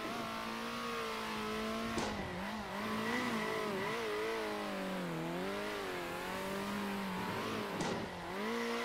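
Race car engine in the racing video game Circuit Superstars, droning steadily and close with rising and falling pitch through gear shifts and corners, one car alone with no talk.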